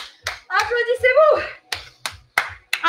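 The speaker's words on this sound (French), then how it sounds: "Applaudissez-vous." Scattered clapping and hand slaps from a group after an intense CrossFit-style interval workout, a few sharp bursts between shouted voices and panting.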